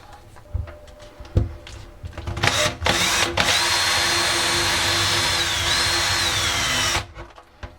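A power drill bores holes for cupboard shelf supports, its bit wrapped in duct tape as a depth stop. Short bursts come first, then one long, loud, steady whine of about four seconds, stopping abruptly, close to the microphone.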